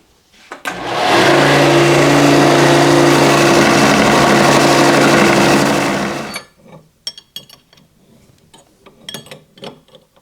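A power grinder or sander works down a weld on a stand being built for a 1930s Craftsman bandsaw, a loud, close, steady whine that starts abruptly, holds for about six seconds, then cuts off into scattered light ticks and clicks.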